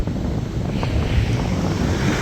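Cold ocean waves washing up on a shore, a brief churning rush of surf with wind buffeting the microphone, loud and close, with no one speaking.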